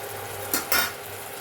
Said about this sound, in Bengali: দেওয়ার পর এটাকে ভালো করে নাড়াচাড়া করব তেলের সাথে কিছুক্ষণ।